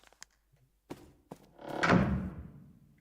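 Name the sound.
lion door opening in the video game The Tartarus Key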